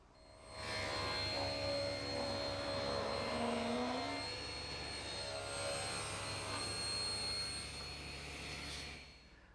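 A table saw bevel-cuts the long wooden piece of a cradle at 6 degrees: a loud, steady motor whine with broadband cutting noise that holds for about eight seconds before winding down, no voices.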